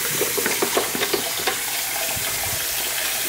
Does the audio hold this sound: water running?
yes